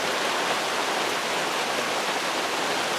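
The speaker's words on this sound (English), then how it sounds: "In the afternoon, we'll get a nice little afternoon rain shower." Steady afternoon rain shower, heard as a constant, dense hiss of falling water without pauses, with no voices.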